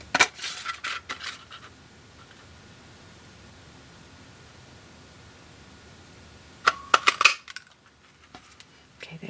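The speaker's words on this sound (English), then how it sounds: "Now let's cut out the bow." Scissors snip through paper while cutting out a craft bow, two short bursts of crisp close-up snipping at the start and near the end, separated by a long quiet stretch.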